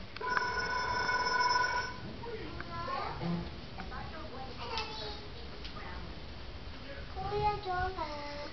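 A telephone bell rings in loud repeated trills at the start, then gives way to children's voices and chatter in a busy home room.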